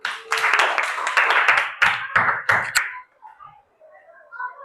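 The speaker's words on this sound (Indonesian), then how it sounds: "Tepuk tangan." Schoolchildren clap their hands together in a classroom, a burst of sharp rhythmic claps lasting about three seconds and ending with a few distinct, separated claps, followed by quiet with faint voices.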